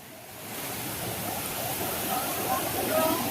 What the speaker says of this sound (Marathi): आता वॉटरफॉलवरती जाऊया आपण